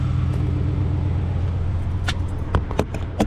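A Chevy Silverado engine idles after a cold start, a low steady rumble close by, with a few sharp clicks and knocks breaking in toward the end.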